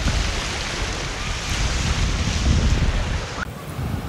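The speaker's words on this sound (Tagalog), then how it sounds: "Ang ganda po ng dagat dito." Sea waves wash onto a beach in Cavite as a continuous loud surf roar with heavy wind buffeting on the microphone, and no voices.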